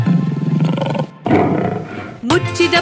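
Cartoon lion roaring in a Kannada children's rhyme, a loud growling roar mixed with singing and music, then a brief sung phrase at the end.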